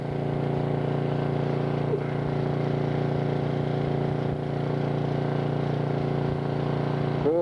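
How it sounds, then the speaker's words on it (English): A generator runs steadily during a winter ice-storm power outage, a constant loud droning hum with no breaks, heard close up throughout. "And all that noise you hear in the background, a generator running."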